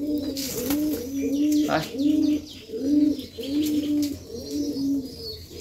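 Domestic pigeons coo in a steady repeating rhythm, close and clear, with a brief word spoken by a person partway through.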